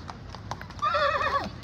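A few hoof clops sound close by in Wright Park, Baguio City, followed by a horse's loud whinny.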